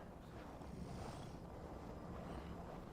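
Wind gusting in the video game Valhalla: a steady, low rushing roar with broad noisy texture, constant and close throughout, with no voices.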